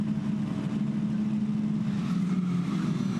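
Cams Jayco Formula 4 race cars surge off the start at Queensland Raceway, a dense, steady engine roar from a tightly packed field, loud and continuous throughout.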